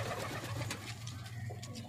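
Soft, repeated pigeon coos against a low, steady background hum, nearby and moderately loud.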